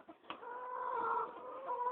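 A chicken lets out a drawn-out, nasal clucking call, close and fairly clear, after a couple of short sounds at the start, with no talking over it.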